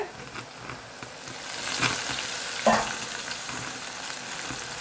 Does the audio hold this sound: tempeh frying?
yes